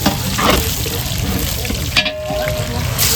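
Chana dal frying in hot oil, a dense crackling sizzle with a watery, rushing texture and a few stirring knocks, close and fairly loud with no talk.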